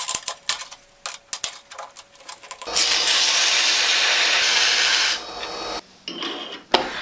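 Steel shafts are polished by hand to fit bearings, giving a steady, close abrasive rubbing that runs for a few seconds after scattered taps and scrapes, then stops and ends on a few short knocks.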